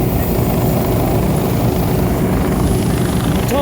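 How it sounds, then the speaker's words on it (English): A second helicopter closes in on a roadside motorcycle crash scene, its loud, continuous rotor chop and engine roar filling the air at a steady, close level. "Here comes the second helicopter approaching the crash scene now."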